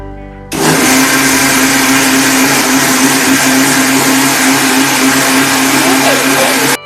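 Mixer grinder crushing roasted masala paste with water for a fish curry, starting abruptly with a loud, steady high-pitched whine and grinding roar that holds constant before cutting off at the end.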